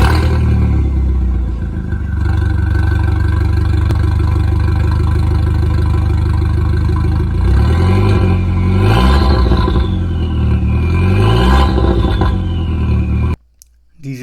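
An Audi Volkswagen 1.8 20-valve turbo engine runs close up at a steady idle with mechanical clatter, then revs up several times in rising and falling bursts before cutting off abruptly near the end.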